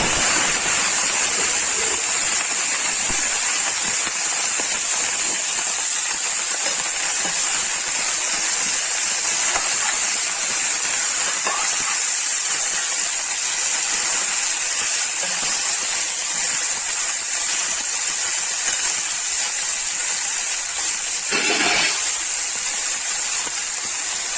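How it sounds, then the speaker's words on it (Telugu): Broccoli fries in hot oil in a pan, a steady loud hiss of sizzling that runs unbroken throughout with a few faint clinks. "ఇప్పుడు బ్రోకోలీ వేసుకొని ఫ్రై చేసుకుంటాం."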